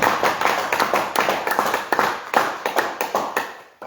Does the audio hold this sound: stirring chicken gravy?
no